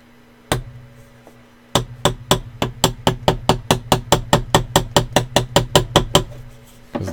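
Epoxy is broken off a piece of glass with a rapid series of sharp, close tapping strikes, one early knock and then about twenty evenly spaced hits in a steady rhythm, with no talking.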